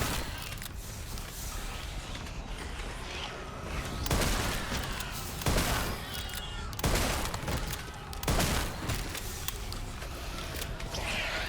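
Shotgun fire in Resident Evil 9, played without the shotgun upgrade: several sharp, moderately loud blasts spaced a second or two apart over busy game ambience, with scattered gunfire and movement noise.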